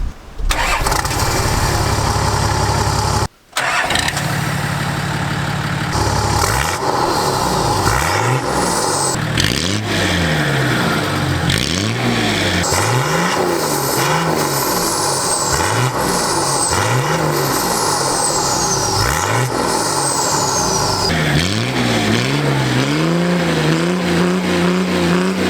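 Turbocharged TD42 diesel in a Nissan Patrol 4x4 with a 3-inch straight-through exhaust cranks, starts and is revved repeatedly. Loud, close rising and falling blips sit over a rough idle, with turbo whistle sweeps.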